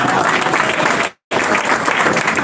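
Audience applause at a distributors' training event, loud, dense clapping filling the space, cut off by a short silent gap mid-clip before resuming just as strongly.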